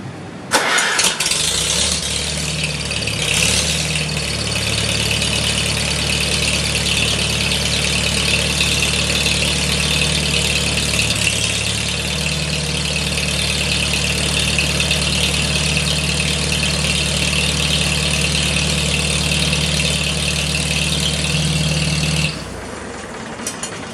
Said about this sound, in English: I set the carburetor back to the settings that they were, so hopefully it should fire up